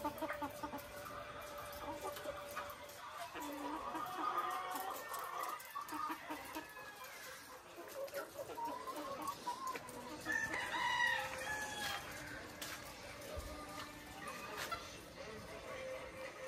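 Chickens on a layer farm cluck steadily with a rooster crowing, mid-distance, under faint background voices.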